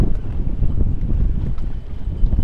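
Strong gusty wind buffets a sailboat on Moriches Bay near the marina, a loud, low, rumbling roar of wind noise with irregular surges and no talk.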